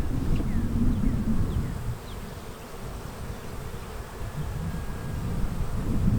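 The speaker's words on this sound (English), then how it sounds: "Alright, y'all see all them bees on there?" A thick, loud hum of honey bees pouring out of a hive super, with single bees zipping by near the microphone over a steady swarm drone.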